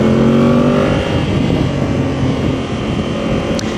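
A Yamaha Tracer 7 Y-AMT motorcycle rides along with a loud, steady engine drone and wind rush, the engine note shifting slightly as gears change.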